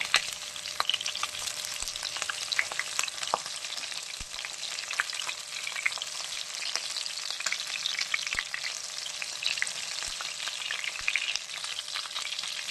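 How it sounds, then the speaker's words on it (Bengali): Four pabda fish fry in oil in a pan, giving a constant close sizzle dotted with sharp crackles and pops, with no talking. "এই খোলাতে ভেজে নিচ্ছি, মাছগুলো উল্টে দিচ্ছি"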